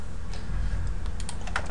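A few computer keyboard keys are pressed in UVLayout, soft close clicks over a low steady background hum, with no voices.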